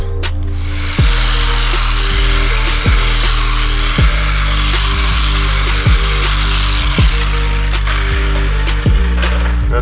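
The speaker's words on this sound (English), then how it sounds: "We'll do the cyclo buff with the Pro 40 finish" A cyclo buffer polishing the aluminum skin of a 1960 Streamline RV with Pro 40 finish, giving a loud, continuous motor drone with a regular pulsing thump repeating roughly every second.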